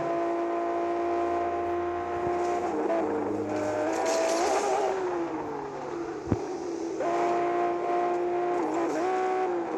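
Aston Martin DB9 Coupé racing in a multiplayer video game, its engine note loud and sustained with shifting revs, tire squeals and a sharp impact thud partway through.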